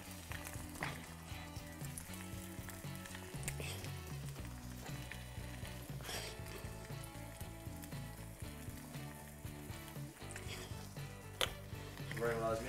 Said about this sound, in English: We have the other side frying now.